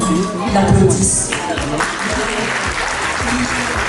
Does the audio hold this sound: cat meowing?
no